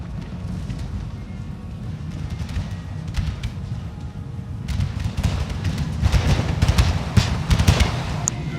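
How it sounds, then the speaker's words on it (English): Musket volley fire in a Napoleonic battle video game between France and Russia in Bavaria, with dense crackling bursts of gunfire over a low rumbling backdrop that build in intensity and loudness through the second half. "Some volley fire going on here."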